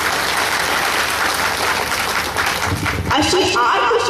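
An audience at a save-the-girl-child awareness event in Sangamner claps loudly and steadily throughout, a dense sustained patter of many hands that swells slightly toward the end.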